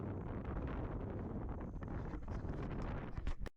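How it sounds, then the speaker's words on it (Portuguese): Strong wind buffets the microphone on an island expedition to the Selvagens Islands, a loud continuous roaring rumble with gusting swells that cuts off abruptly at the end. "Muito vento, como se ouve"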